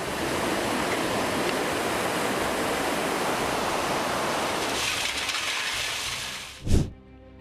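Floodwater from a flash flood after heavy rain rushes in a steady, loud, broad roar that holds for several seconds, then eases as a brief heavy splash or crash breaks through near the end.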